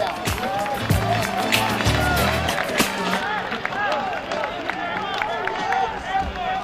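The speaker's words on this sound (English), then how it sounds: "This crowd having some moments to cheer for here for the guys wearing red." A football stadium crowd at a college game between Simon Fraser and Western Oregon cheers and claps in a broad, distant roar, with a commentator talking over it.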